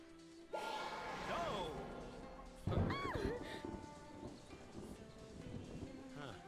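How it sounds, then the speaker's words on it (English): Steady rain with a heavy thunder crash about midway, layered with tonal, voice-like sweeps and game effects, from Final Fantasy 13. "Come out to play in the rain, did you?"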